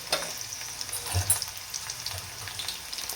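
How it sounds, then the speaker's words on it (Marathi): Spices sizzle and crackle in hot oil close up as tempering for a potato curry, with a sharp hiss at the start and a few soft clinks of a pan. "म्हटलं अगोदर भाजीला फोडणी घालते"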